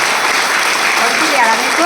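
Audience clapping loudly at a leadership talk, a brief continuous wash of hand claps with a voice speaking over it toward the end.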